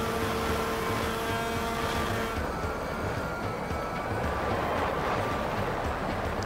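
A snowmobile runs along groomed trails in the Keweenaw Peninsula, giving a steady close engine drone that shifts in tone partway through, with no talk.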